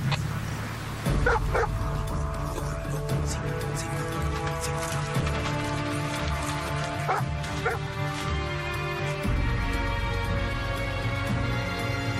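Dogs yip and whine with a few scattered barks over a steady droning background hum.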